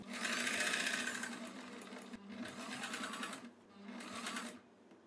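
A sewing machine runs in three bursts stitching a kurti neckline, a steady close mechanical whir with short pauses between runs.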